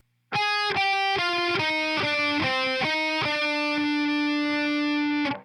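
A distorted electric guitar slowly plays a riff from a song, with a sequence of separate picked notes and a final sustained ringing note, loud and alone.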